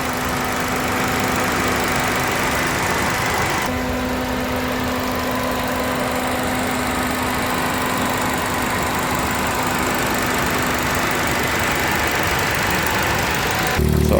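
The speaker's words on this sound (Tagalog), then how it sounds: "umaandar yung fan niya." A rebuilt Ford Fiesta engine idles steadily with its electric cooling fan running, giving a constant close whir and hum with a faint tonal drone that holds for the whole stretch before a brief shift near the end.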